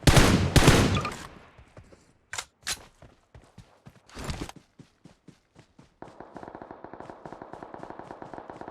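Gunfire in PUBG Mobile starts with loud, close bursts, then turns into spaced single shots and finally a rapid, steady automatic spray near the end.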